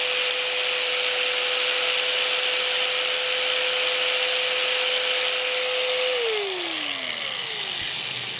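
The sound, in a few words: belt sander running, belt moving back and forth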